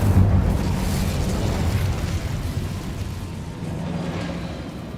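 Incendio fire spell cast in Hogwarts Legacy, a loud roaring whoosh and burst that starts strong and rumbles steadily before slowly easing off, with no talk over it.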